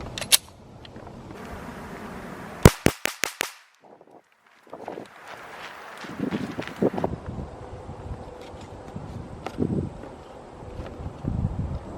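A Glock handgun fires at an outdoor shooting range, a quick string of about five sharp, loud cracks in succession, with wind rumbling on the microphone before and after.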